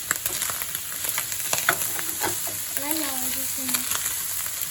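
Onions fry in a pan and get stirred with a spoon, bursts of sizzle and scraping taps throughout, close and fairly loud, with a brief voice murmuring partway through.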